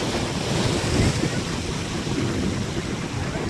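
Rough sea waves crash and surge at a coast near Nagoa Beach in stormy weather, with strong wind buffeting the microphone in a steady loud roar throughout.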